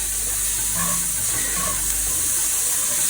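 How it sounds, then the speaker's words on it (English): Onions sweating in coconut oil in a pan over lowered heat give off a steady, close, loud hiss and sizzle that runs without a break, with no voice over it. "So go ahead and cook down your onions and your coconut oil for about 2 or 3 minutes."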